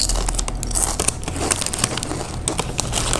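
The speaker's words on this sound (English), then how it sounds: "Please stop making that annoying sound. You mean crunching?" Close, loud crunching and crinkling from someone eating snacks during a movie, a busy stream of crisp cracks and rustles with no talking.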